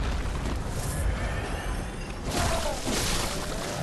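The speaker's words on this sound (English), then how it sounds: "And that one casts lightning." An enemy in Bloodborne's Fishing Hamlet casts lightning, giving a crackling, booming burst of noise with a second surge near the end, moderately loud.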